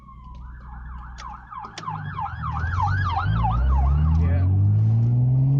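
A fire truck's wailing emergency siren rises and falls rapidly as it approaches, its heavy engine rumble growing louder and closer.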